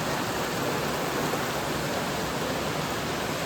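Heavy rain falls hard outdoors on a street, a loud, unbroken wash of hiss that stays even from start to finish with no voices.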